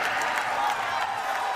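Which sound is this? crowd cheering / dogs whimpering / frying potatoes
crowd cheering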